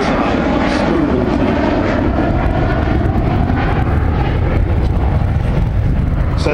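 An Avro Vulcan B2 bomber flying at the Farnborough Air Show, its jet engines a loud, constant roar with deep rumble that fills the air throughout.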